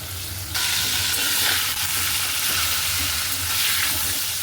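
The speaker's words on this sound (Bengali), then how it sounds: "নুন আলুর মধ্যে একটু বেশি দিলাম আর দিয়ে দেবো হচ্ছে হলুদ এটাকে ভালো করে ভেজে নিই" Potato chips frying in hot oil with salt and turmeric, a steady, loud, close sizzle filling the whole stretch, rising after a softer first half-second and carrying on with small stirring scrapes.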